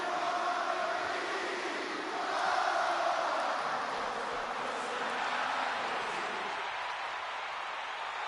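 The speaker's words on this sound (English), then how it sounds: "And this capacity crowd just exploded." Capacity crowd roaring in a WWE 2K26 wrestling arena, a steady, dense wall of cheering and noise that swells slightly midway and holds loud and continuous throughout, with no clear speech.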